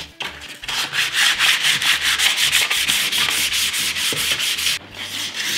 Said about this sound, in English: So, after sanding it all by hand